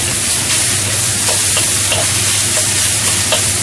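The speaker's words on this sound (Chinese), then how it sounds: "落埋啲蒜蓉、干葱蓉，炒一炒香佢。" Minced garlic and shallots sizzle and crackle in a hot wok, with a steady, loud frying hiss and occasional scraping of the spatula as they are stirred.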